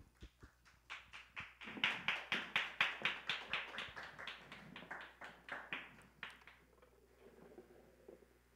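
A church congregation at a Thursday worship service claps in a steady, even rhythm, crisp sharp hand claps building and then tapering off, with no talking over them.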